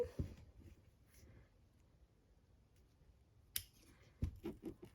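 Scissors snip through material to cut out a star-shaped ornament, giving a few quiet, close cuts at the start and a cluster of sharper snips near the end, with no talk.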